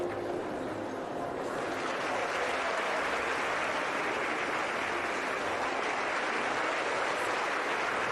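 A crowd applauds as a show jumping rider finishes his round at the Global Champions League in Cannes, a broad sustained roar of clapping that swells after a brief quieter start.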